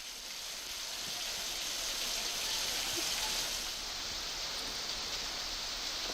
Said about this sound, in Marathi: शहरामध्ये पडणारा मुसळधार पाऊस आणि रस्त्यावर साचलेलं पाणी